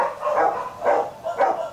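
A dog, one of the golden or white bob-tailed Bac Ha fluffy breed, gives three short barks in quick succession, moderately loud and near, with no other sounds around them.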